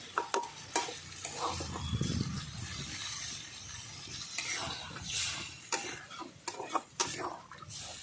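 Chicken is stir-fried for kosha in a pan with steady sizzling. A spoon scrapes and stirs it in repeated strokes, and metal clinks and taps against the pan, close and clear.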